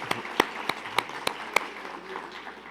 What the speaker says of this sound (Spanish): tal vez les demos un aplauso a todos nuestros enlaces